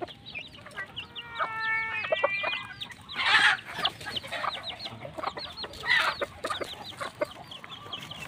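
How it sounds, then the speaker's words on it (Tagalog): A lone surviving young White Kelso chick peeps and chirps at feeding time, with a quick run of high calls early on and brighter bursts of chatter later, close and fairly clear over a soft background. "bibigyan na po natin ng patuka ang ating sisiw na white kelso"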